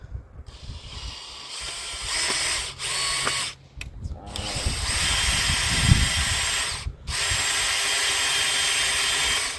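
A power drill bores a new hole through barn timber, whining in several bursts with short pauses between, close and fairly loud.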